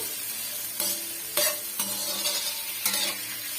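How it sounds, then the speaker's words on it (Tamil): Chopped tomatoes sauté in a pan for a vegetarian fish-style curry of raw plantain, giving a steady close sizzle broken by several louder stirring scrapes at irregular intervals; no voices. "தக்காளி பழம் நல்லா வதங்கி வரட்டும்"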